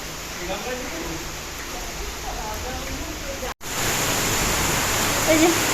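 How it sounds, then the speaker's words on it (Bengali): Light rain falls outside after a heavier downpour, a steady soft hiss that cuts out for a moment and then returns slightly louder. "এখন আবার এই যে অল্প অল্প পড়ছে বৃষ্টি"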